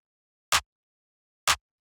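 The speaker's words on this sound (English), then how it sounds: "the last one of the sort of like main percussion here is the clap, which sounds like this" Two fat, short clap hits from a deep minimal house drum sample, spaced about a second apart, dry and punchy against silence.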